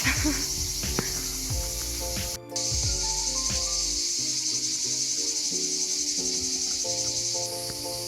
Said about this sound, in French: là-haut, clairement, il y a trop de cigales